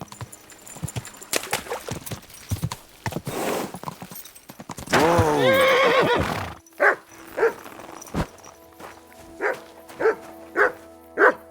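A dog barks repeatedly in Kingdom Come: Deliverance 2, with rhythmic evenly spaced barks following earlier hoof clip-clops and a burst of whining, yelping vocalization, heard fairly close.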